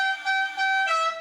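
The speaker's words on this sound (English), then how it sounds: "Honk the horn, Biscuit." A bright, steady horn tone with strong harmonics blares for about a second, briefly dipping before sounding again, loud and close.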